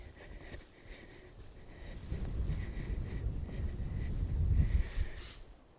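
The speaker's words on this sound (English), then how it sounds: "it's windy" Cold wind gusts buffet the microphone over snow, rising into a louder rumble toward the end, with faint rustling and no speech.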